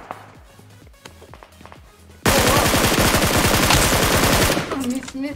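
An MG3 machine gun in PUBG Mobile on the Erangel map fires one long, very loud, rapid continuous burst for about two seconds, preceded by quieter footsteps and clicks.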